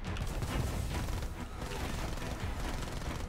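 Rockets firing in War Thunder come as a dense, continuous barrage of booming blasts and crackling bursts, loud and close, with no clear breaks.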